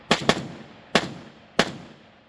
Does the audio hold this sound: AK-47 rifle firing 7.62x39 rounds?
yes